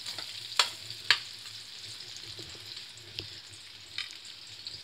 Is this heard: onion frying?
yes